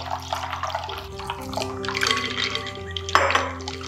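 Water pours into a container packed with ice while homemade mango Frooti is being made, giving splashing, trickling and clinking sounds over a low background hum, louder near the end.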